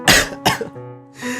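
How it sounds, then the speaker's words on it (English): Two harsh, close coughs in quick succession followed by a rough throat-clearing rasp, loud and alone in a short burst. "Oh god, coughing fit."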